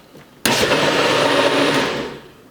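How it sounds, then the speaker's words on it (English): A blender starts suddenly and runs at a loud, steady whir as it grinds hemp seeds and water into milk, then winds down near the end. "But you do need a blender to make hemp milk. So let's blend this up."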